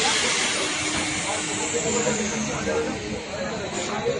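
A train pulls out of a station, its hiss and steady rumble continuous and fairly loud, with a brief whistle-like tone late on; a voice is faintly audible beneath.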